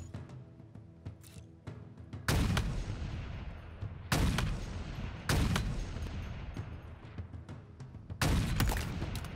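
Heavy gunfire in a Halo Infinite campaign battle: four loud booming blasts spaced a couple of seconds apart, each with a long rumbling decay, over lighter rapid shots and combat noise.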